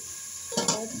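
Potatoes with a fish head frying in a pan, a low steady sizzle that swells into a brief scraping stir midway, close and fairly quiet.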